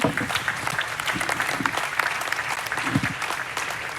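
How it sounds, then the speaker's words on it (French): A conference audience at an energy event applauds a speaker, the dense clapping steady and fairly loud for the whole stretch with no one talking over it. "Je pense qu'on peut applaudir Arnaud Gossement."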